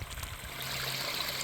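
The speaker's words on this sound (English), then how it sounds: "Stopping at the last creek to get some water." Creek water runs in a steady, close trickling flow with a continuous broadband rush, heard on its own along a mountain creek during a mule deer shed hunt.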